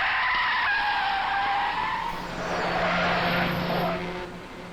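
A car's tyres squeal in a long, loud skid as it brakes to a stop, the screech rising and fading over engine noise with no talk.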